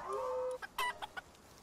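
A chicken clucks and squawks in Palworld in a few short bursts, fairly faint, with a sustained tone and electronic game sounds alongside.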